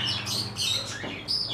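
Pigeons of Shirazi and Giribaz breeds chirp and call in a loose, continuous cluster close by, with a hint of wing flutter and no talking.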